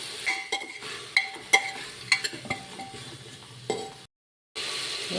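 Vegetables with salt, turmeric and whole spices like cinnamon, clove and cardamom fry in oil in a pan, a steady sizzle broken by repeated sharp clinks and scrapes of a spoon stirring, with a brief silent gap near the end.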